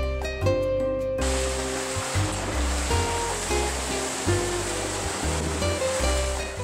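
Rough seas in the Gulf Stream, whipped up by squally weather, roar as a constant, loud wash of breaking waves and spray, heard under a steady music track.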